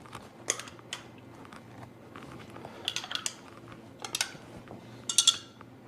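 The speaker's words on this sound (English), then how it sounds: "we'll kind of stir these up real quick so you can get a better look" Spoons clink and scrape against cups while water samples are stirred for a Kangen water pH demonstration, a string of sharp irregular taps and rattles over a quiet room hum.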